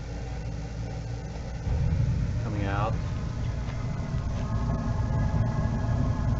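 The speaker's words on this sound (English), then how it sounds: "That's the fan coming on." The exhaust fan of a Bradford White power vent gas water heater starts up, adding a steady low rumbling hum that rises in level and then holds, while someone talks over it.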